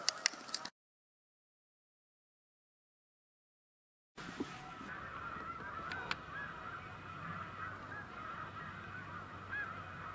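Geese honking near Cayuga Lake, several distant calls over outdoor ambience after a stretch of dead silence, faint and scattered rather than close.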